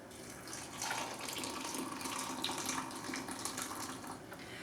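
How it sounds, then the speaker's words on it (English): Water pours steadily into a 2-cup liquid measuring cup for herbal tea, a continuous close splashing trickle lasting several seconds. "to that measuring cup, we're going to add 1 1/3 cup water"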